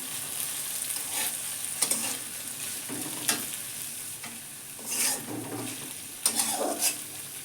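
Gentle sizzling of food frying in a pan over low gas, a steady hiss broken by several brief bursts as the contents are pressed and stirred, close and fairly quiet with no voices.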